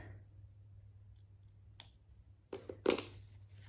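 Two quick snips of scissors clipping a fabric seam allowance along sewn curves, a faint cut near the middle and a sharper, louder pair of snips toward the end, close up over a low steady hum.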